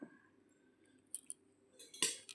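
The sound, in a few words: stirring Maggi frying in a pan with salt and turmeric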